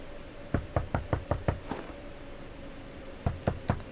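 Knocking on a door in The Wolf Among Us video game, a quick run of six sharp raps, a short pause, then three more knocks, moderately loud over a faint steady background hum.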